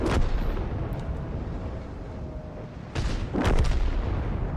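A tank gun firing in a video game, booming, heavy blasts over a constant rumble of battle, with a sharp report near the start and a louder burst toward the end.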